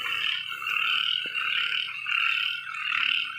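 Frogs croaking at night after rain, a dense chorus of rapid pulsing calls swelling and fading in waves, several animals nearby at moderate volume with no talk.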